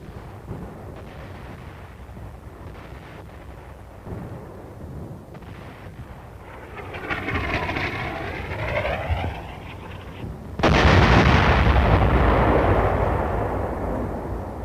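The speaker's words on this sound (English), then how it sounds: "That blast of the enemy gun has been recorded as a visual image" Enemy gun blasts and artillery fire in the Korean War, 1952, heard as distant booming rumbles building to a loud, sustained blast near the end, with a whining drone in the middle and no voices.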